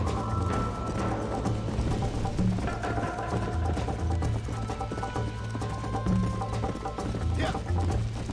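Horse hooves clip-clop at a gallop in the Red Dead Redemption video game on Nintendo Switch, a steady rhythmic patter under game music and ambient sound, with a voice heard faintly.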